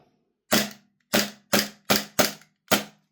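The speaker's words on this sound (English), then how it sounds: "Let's give it a quick dry fire." Six sharp dry-fire clacks from a VFC Walther PDP airsoft pistol fitted with a new trigger, close and crisp, spaced unevenly about half a second apart in a quiet room.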